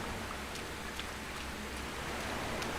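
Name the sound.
rain in the video game Sengoku Dynasty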